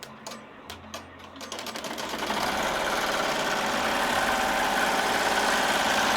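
Two embroidery machines start up and stitch a sherpa fur throw, beginning with a few separate clicks and then rising into a steady, dense mechanical whirr with rapid needle chatter that stays loud and continuous.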